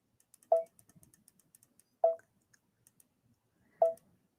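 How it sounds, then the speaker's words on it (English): An embroidery machine set to its smallest stitch size gives three sharp knocks, evenly spaced about one and a half seconds apart, with faint ticking between them in a quiet room. "Did you hear that knocking? It means it cannot get any smaller."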